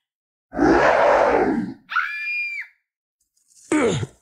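Women scream in an audio drama scene: a long loud scream, then a shorter strained cry after a pause, and a final sharp shriek, all close and without talk.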